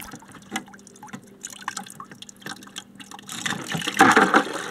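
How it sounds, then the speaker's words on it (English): Water trickles and drips at first from a cut refrigerator water line, then pours more steadily and louder toward the end, splashing into a bucket close by. "as I get near the end of the cut, more water is going to start coming out"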